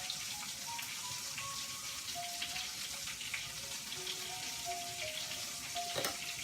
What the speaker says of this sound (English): Take my big spoon here. Let's stir this sauce up a little bit so the grease,